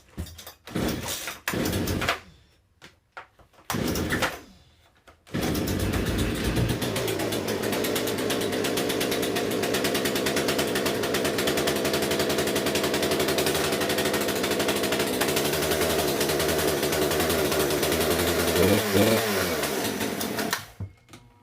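Poulan P3314 chainsaw with the choke at half, pulled several times in sharp bursts with gaps, then firing and running at a loud, steady roar for about fifteen seconds before shutting off.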